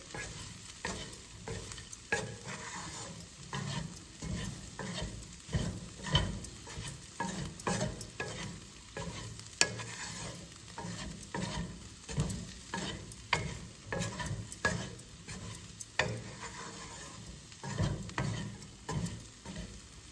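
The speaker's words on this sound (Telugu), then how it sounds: "కొంచెం వేగాలి ఈ కారం కూడా." Chili powder frying with bitter gourd and onions in a pan, a soft steady sizzle broken by frequent scraping stirs at an uneven rhythm, close and quiet, no talking.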